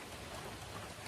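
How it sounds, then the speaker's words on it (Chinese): Heavy rain pouring down steadily outside a rural mountain home during a storm, a dense, even hiss with no pauses and no voices. "这个雨还是这样哗哗的下。"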